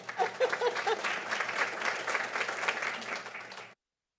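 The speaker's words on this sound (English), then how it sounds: "So I think that deserves a clap" Board meeting audience giving a round of applause: a burst of clapping from a modest crowd, fairly close, with a few faint voices at the start, sustained for several seconds before stopping sharply.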